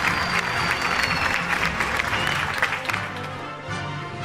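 An award-show audience applauds continuously, dense clapping that fills the hall at a steady level, with murmurs of crowd noise underneath throughout.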